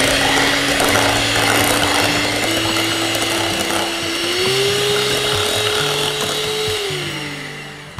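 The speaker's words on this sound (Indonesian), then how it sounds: "Mixer sampai kecampur rata." Electric hand mixer beating cake batter for a no-oven cake, a steady close motor whine with a rattling, grinding texture that runs without a break and shifts slightly in pitch, with no talking.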